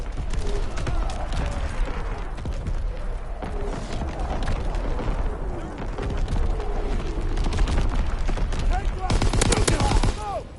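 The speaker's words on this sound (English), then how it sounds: "Firing division artillery." Division artillery fire in Call of Duty WW2 on PS4: a sustained, dense wash of distant booms and rattling gunfire runs throughout, with a sharper cluster of blasts near the end.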